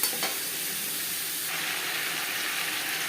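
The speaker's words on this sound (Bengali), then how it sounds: "পুরো ভেজে নেব।" Papaya pieces frying in a pan with turmeric and salt, giving a steady close sizzle and hiss with light stirring scrapes throughout, growing a little brighter halfway through.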